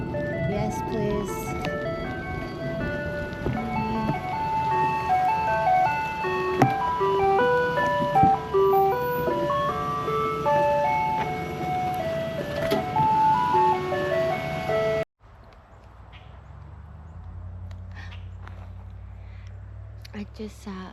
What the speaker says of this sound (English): and I hear an ice cream truck.